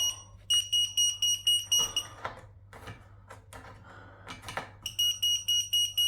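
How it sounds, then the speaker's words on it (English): Smoke alarm giving rapid repeating electronic beeps in bursts, fairly close in a house, with a pause of muffled knocking and handling noises in between. "I wonder if that's the smoke alarms coming off that"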